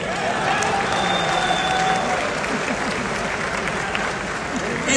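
Sustained applause from a large audience at a company's 10th anniversary celebration, a dense steady patter of clapping with crowd murmur underneath, continuing at even loudness throughout.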